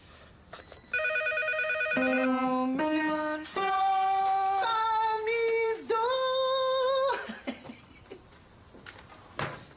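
A telephone rings in repeated loud electronic bursts of stepped melodic tones, filling most of the clip before trailing off into quieter background noise.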